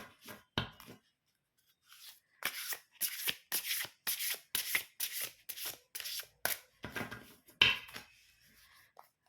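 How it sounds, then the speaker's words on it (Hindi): A deck of tarot cards is shuffled by hand for a love reading, giving a run of quick riffling, flicking bursts in steady rhythm, close and fairly loud, with a couple of brief pauses and no talking. "कार्ड शफल करते हैं और देखते हैं लव लाइफ में क्या लिखा है जनवरी 2026 के लिए"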